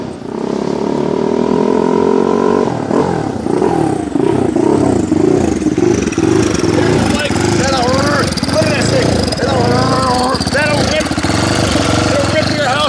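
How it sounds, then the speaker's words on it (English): A turbocharged 2024 GasGas MC 450 Factory Edition dirt bike engine runs loud and close, idling then revving repeatedly in sharp bursts, with a rising turbo whine layered over the rough single-cylinder roar. "Gasgas MC450 with a turbo on it."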